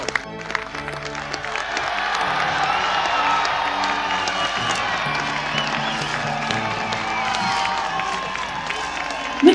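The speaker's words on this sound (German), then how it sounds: "Man sieht aufgeregte Gesten und begeisterten Applaus." A crowd cheers and applauds enthusiastically in the Anno 1800 game, with a dense, steady roar of clapping and voices that holds for about ten seconds over a tonal musical bed and ends in a sharp burst.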